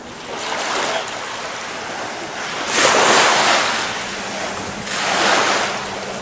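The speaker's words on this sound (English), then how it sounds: "The edges of the waves." Ocean waves wash and break on a beach in broad rolling surges, with two louder crashes and steady wind noise between them.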